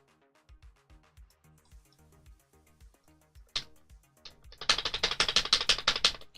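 Computer keyboard typing, sparse scattered key taps at first, then a dense, loud burst of rapid clicking toward the end, with no talking.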